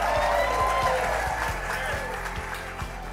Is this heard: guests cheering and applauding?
yes